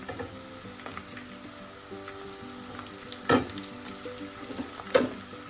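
Chopped shallots sizzle steadily in hot oil in a pan for a Kerala mushroom thoran, with two sharp clatters of stirring near the end and no voices.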